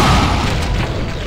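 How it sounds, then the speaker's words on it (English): A loud, deep boom from a rocket launcher explosion in Brutal Doom 2, a single heavy blast that rumbles and slowly fades over about a second. "Sounds like he's got a rocket launcher."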